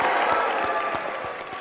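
A live crowd at a youth summit near Omaha, Nebraska applauding, dense steady clapping with some cheering filling the whole brief moment, close and loud.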